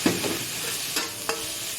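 Fried rice stir-fried in a pan with garlic, onion, oyster sauce and cabbage, giving a steady close sizzle broken by a few sharp scraping stirs.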